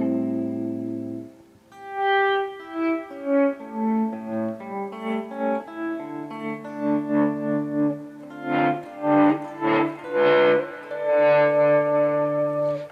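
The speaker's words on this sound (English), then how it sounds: "and get this really long reverb, but not a lot of reverb, right?" Electric guitar played through a long reverb effect, with sustained chords followed by a run of picked notes that ring out and blend into a washed, echoing bed, loud and alone without talk.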